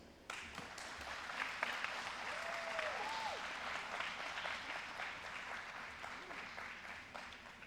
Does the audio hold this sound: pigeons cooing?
no